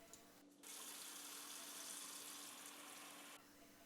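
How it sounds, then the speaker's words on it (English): Cold tap water gushes steadily over eggs in a pan, a continuous bright splashing stream that starts after a brief trickle and cuts off near the end, close and fairly quiet. "run cold water over the eggs to cool them quickly"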